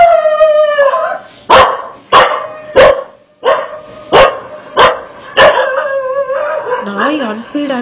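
A dog in a played video barks and howls, about seven sharp evenly spaced barks between drawn-out howling tones, loud and close, with a voice joining near the end.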